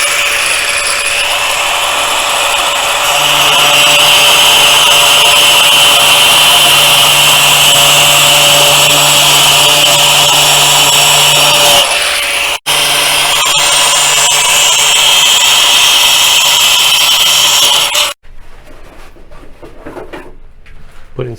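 A power saw cuts a luxury polymer shower wall panel in a tiled bathroom remodel, a loud sustained whine with a steady high tone for about twelve seconds, a short break, then more cutting before it stops and leaves quiet room noise.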